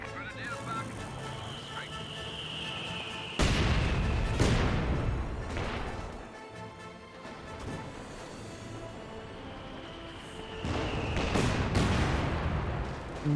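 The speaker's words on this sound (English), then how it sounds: "Mortar hits there." Mortar shells impacting in the real-time strategy game Company of Heroes 2: a few heavy, booming blasts spaced several seconds apart over steady battle noise, with someone commentating over the action.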